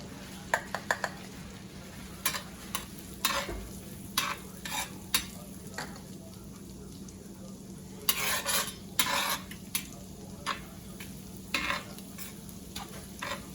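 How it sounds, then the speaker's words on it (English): Garlic is stirred into seasoned butter sizzling in a pan, with a low steady hiss under repeated scraping, clattering stirs of a utensil against the pan, loud and close. "So we're gonna have Jay dump 1 container of her garlic in there and stir it in."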